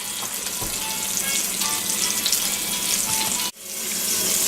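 A kitchen water tap runs steadily and close by for about three and a half seconds while food cooks, then is shut off abruptly and the steady hiss resumes faintly.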